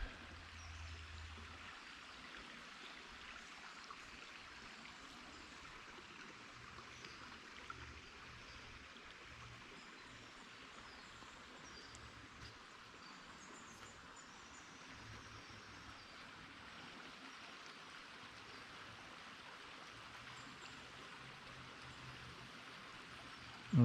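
A creek flows in a faint, steady wash of water with no break, heard outdoors with a light low background rumble and no talk.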